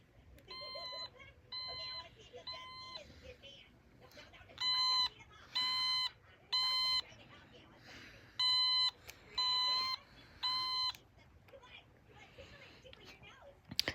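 Fire alarm tones played on an Otamatone, an instrument imitating the alarm: groups of three buzzy, nasal beeps repeat in a steady pattern, quiet at first and then louder, over a faint background.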